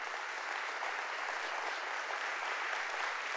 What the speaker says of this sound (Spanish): Denle fuerte aplauso a Jesús.